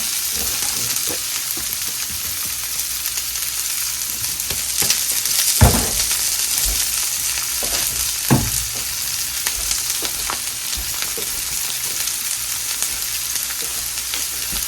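Dehydrated mushrooms cooking in oil in a pan, a loud continuous sizzle with a couple of louder clatters and scrapes from stirring partway through, no voices.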